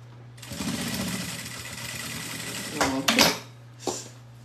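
A sewing machine runs steadily while stitching a seam on a fabric necessaire box, its whirring motor under a low steady hum, with a few louder bursts near the end as the fabric is handled.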